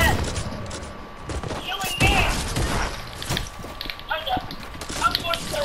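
Rapid gunfire in the Fortnite video game, several sharp shots in quick bursts mixed with thumps and game sounds while a player talks over the action.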